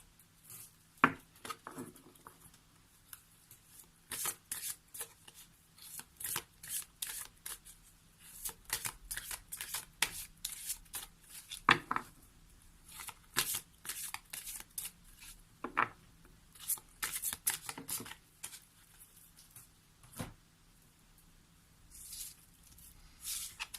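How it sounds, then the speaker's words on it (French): An oracle card deck, the Ganesh whispers cards, is shuffled by hand in quick riffling bursts with short pauses between, close and fairly soft, with no one talking. "Allez, on va prendre une carte des murmures de Ganesh."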